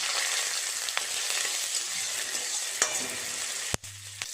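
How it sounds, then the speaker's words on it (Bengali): Nigella seeds and two dried chillies crackle and fry in hot oil for a fish and aubergine curry, a steady bright sizzle with a few sharp pops and a brief clatter near the end. "ফোড়নে দেব কালো জিরে, দুটো লঙ্কা"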